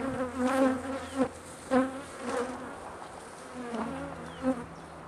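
Honey bees at an open hive drone loudly and close by, their buzzing pitch swelling and fading in several passes as individual bees fly near, with a steadier hum beneath.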